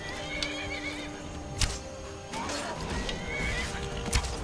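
A horse neighs and whinnies in the Skyrim video game, with a few sharp clip-clop hoof knocks and game noises mixed in over a steady background.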